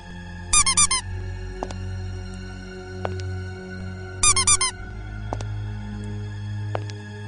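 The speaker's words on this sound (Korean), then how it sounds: "아이들 신발에서 나는 그 소리" Children's shoes squeak in a horror radio story, two short bursts of rapid shrill squeaks a few seconds apart, loud and close over a low background hum.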